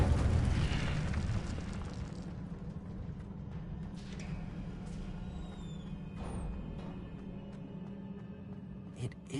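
A burst of flame from the Incendio fire spell in Hogwarts Legacy, a loud whooshing roar at the start that fades into a softer crackling burn, with a few sharp pops and clicks scattered through.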